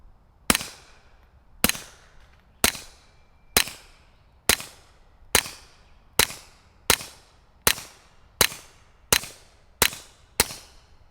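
Twelve evenly spaced .22 rimfire gunshots from a Retay RXP22 pistol, sharp loud cracks with short decays and quiet gaps between them, no talk.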